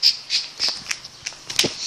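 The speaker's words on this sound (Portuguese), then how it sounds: "Olha que lindo aquele outro passarinho que tá na árvore." A bird in a tree gives a series of harsh, bright squawks, about six bursts in quick irregular succession, fairly close and loud with no talking.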